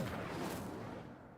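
An Incendio fire spell is cast in Hogwarts Legacy as a quiet, airy whoosh-like burst of flame that swells briefly and then fades.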